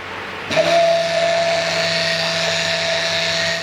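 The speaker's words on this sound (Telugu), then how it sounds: "బ్లెండర్తో బ్లెండ్ చేసేద్దాం మంచిగా." A motorized blender starts abruptly and runs steadily at a high whine, mixing oils and cucumber powder for soap, loud and continuous with no talking.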